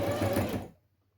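A sewing machine stitching fabric for a school pencil case runs with a steady loud mechanical whir for under a second, then stops abruptly into quiet.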